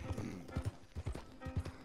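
Horse hooves galloping in Red Dead Redemption 2, a quick rhythmic run of thudding beats, fairly faint and heard alone.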